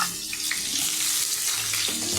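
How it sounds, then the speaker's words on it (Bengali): Green jackfruit pieces frying in oil with salt and turmeric, a steady close sizzle that runs evenly throughout with a few faint stirring scrapes and no talking. "এখন আমি কাঁঠালটা ভেজে নিই।"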